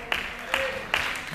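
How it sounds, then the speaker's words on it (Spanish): Open-palm flamenco hand clapping (palmas) sounds as three crisp, evenly spaced claps, close and loud, with a voice briefly audible underneath. "Una forma es la palma abierta, que es el ruido que todos conocemos."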